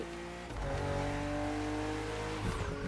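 BMW M2 and M4 race cars in The Crew Motorfest on a narrow, twisting road, engines droning steadily with rising and falling revs and a brief tire squeal near the end, no talk.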